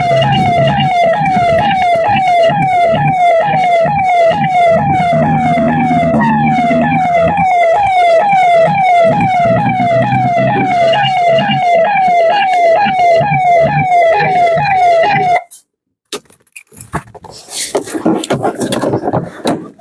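A police siren wails loudly in a steady repeating up-and-down pattern for about fifteen seconds, with vehicle and street noise beneath it, then cuts off abruptly, leaving brief muffled handling and background sounds.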